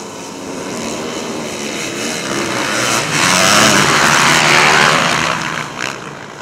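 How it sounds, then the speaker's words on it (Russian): Racing engines roar steadily on a loose sand track, swelling louder midway as vehicles pass close, with a broad rushing drone throughout. "Рев моторов, брызги рыхлого песка из-под колес"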